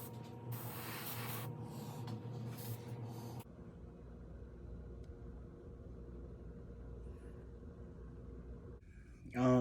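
Acrylic paint made for a sprayer hissing steadily from an airbrush-style sprayer onto a Weepinbell-themed fishing lure, a loud broadband spray in the opening seconds that drops to a quieter, continuous hiss, with a brief sharper burst at the end.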